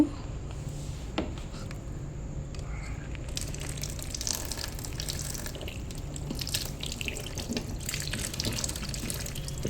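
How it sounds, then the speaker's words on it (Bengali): Fish being rinsed under a running tap in a sink, a steady low splash of flowing water with faint drips, quiet and close, no voices. "তো মাছটাকে এখন ভালো করে ধুয়ে নেব।"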